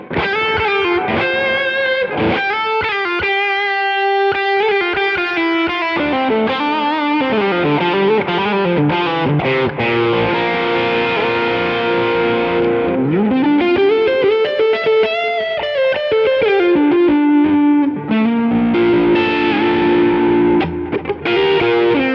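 Electric guitar with a Strymon reverb blended in through an expression pedal rings out in sustained chords and melodic lines, loud and continuous, with washy tails swelling between notes and no talking.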